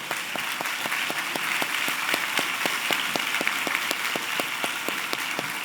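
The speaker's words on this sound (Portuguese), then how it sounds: "Dê uma salva de palmas para ela." Steady applause from a crowd, dense and continuous with sharp individual claps standing out, fairly loud and sustained throughout.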